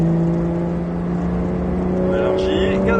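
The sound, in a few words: Porsche 911 GT3 (991) accelerating on the Ladoux circuit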